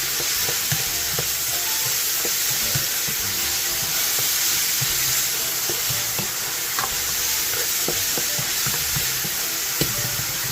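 Tomato and onion sizzle steadily in a frying pan for dinuguan, with scraping stirs and utensil knocks scattered throughout over a continuous hiss of frying, close and fairly loud, with no talking.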